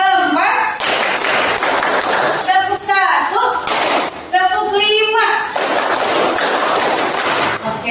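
A classroom of students claps out a rhythmic pattern in sharp group bursts, several rounds in a row, with a teacher's voice and children's voices talking between the claps.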